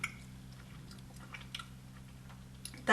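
Close, soft chewing of a mouthful of chorizo and prawn soup, with faint wet mouth clicks over a low steady hum and no talking.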